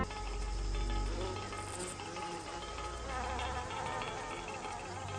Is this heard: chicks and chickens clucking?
no